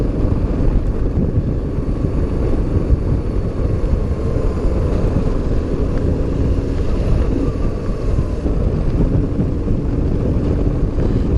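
Riding beside a freeway, a BMW R850R motorcycle gives a steady low engine drone heavily masked by continuous wind buffeting, with passing traffic blended into the rush.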